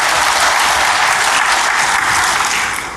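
A church congregation claps loudly and continuously during a sermon, a dense wall of hand claps holding steady before easing off at the end.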